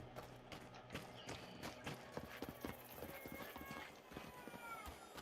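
Rapid hoof clip-clops from a horse in the video game Avowed, busy and rhythmic, layered over background music and game sounds, with some brief talk.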